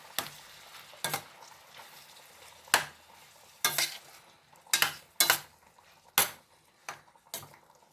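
Half a kilo of chopped tomatoes stirred in a pan, with sharp spoon scrapes and clanks against the metal recurring about every second over a soft sizzle, close and alone.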